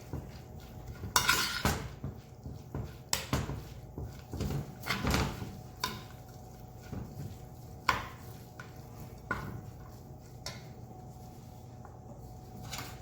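Stuffing mix with Parmesan being stirred in a bowl, irregular clinks and scrapes of utensil against dish with a few louder knocks, fairly close.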